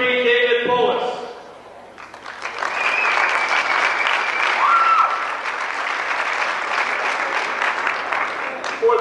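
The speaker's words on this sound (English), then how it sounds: "Please give him a round of applause." Crowd at a 1998 men's bodybuilding contest breaks into applause after a short spoken announcement, steady clapping with a few cheers continuing for several seconds.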